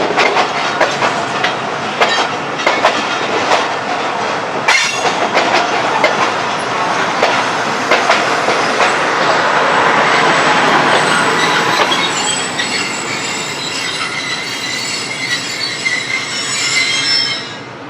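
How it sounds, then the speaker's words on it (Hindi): The 171-Up Sialkot Express passenger train pulling out of Kala Shah Kaku on an early morning in heavy rain, its wheels squealing loudly against the rails over a steady clickety-clack rumble that continues throughout without speech. "ले जी काला खटाई से रवाना हो पड़ी है सियालकोट एक्सप्रेस"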